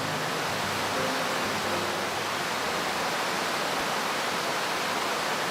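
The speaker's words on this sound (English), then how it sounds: "I know it's a waterfall, and I know waterfalls are loud. But it does seem excessively loud." A roaring waterfall in the cozy game Little Witch in the Woods, a steady, dense wash of rushing water that stays loud and unbroken throughout, with no voices over it.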